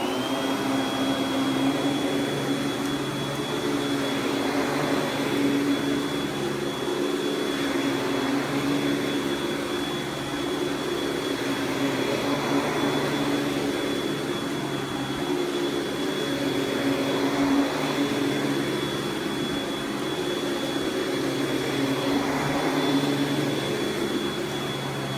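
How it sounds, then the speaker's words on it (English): Clean air vacuum cleaner running continuously, a smooth steady whirring drone with a faint high whine, even in level throughout and with no talk. "another pro with a clean air vacuum is that these are very quiet."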